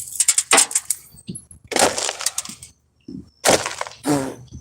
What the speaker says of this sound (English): I got broken glass all over my fingers.